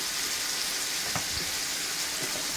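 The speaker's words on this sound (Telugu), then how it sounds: "జర కలిపి అల్లం ఎల్లిగడ్డ వేసుకున్నాము. ఇదిగోండి ఇది కొంచెం నూనెలో మెదిగింది కదా." Ginger and garlic sizzling in a little oil in a pan, a soft, steady frying hiss with faint crackles, quiet and continuous.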